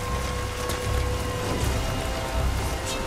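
Rain weather effect in the video game Nioh: a steady, dense patter of rainfall that holds evenly throughout, moderately loud with no other sound on top.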